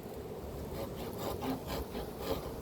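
Rough rasping strokes of a hand saw biting into an oak limb, several back-and-forth pulls in a row, fairly quiet and close.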